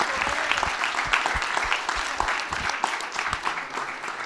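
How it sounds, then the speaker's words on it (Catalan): Steady applause from the audience at a Catalan school gala, the thirteenth Festival de Clipmetratges de Mans Unides, greets the winners: dense, continuous clapping from a crowded hall with no voices over it. "Un aplaudiment ben fort per tots els guanyadors."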